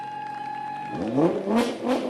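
A loud car passes in a Labor Day parade in Kensington, its engine holding a steady tone before revving hard in three surging bursts close by.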